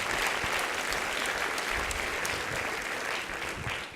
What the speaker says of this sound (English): Give Annalise a huge round of applause.